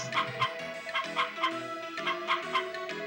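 Hen in the video game Harvest Moon, a run of quick clucks and short squawks in an uneven rhythm, close and clear, with no talk.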